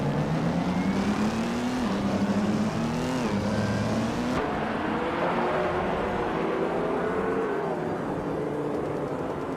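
A vintage 1958 Maserati 250F racing car engine in a racing game at Termas de Rio Hondo, loud and close, droning and revving with rising and falling pitch as it accelerates and shifts, continuous throughout.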